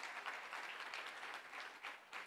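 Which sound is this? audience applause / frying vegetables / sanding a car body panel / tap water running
audience applause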